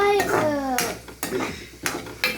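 Chicken curry stirred in a pot with a utensil, a few sharp metallic scrapes and clinks at irregular intervals, close by, with a voice talking over the first part.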